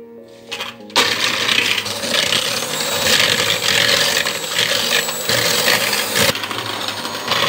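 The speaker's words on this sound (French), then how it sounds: "on va mélanger ça au batteur" Electric hand mixer beating two egg yolks with caster sugar for a mango flan, a steady dense whirring buzz running continuously for several seconds after a brief start, close and fairly loud with no talking.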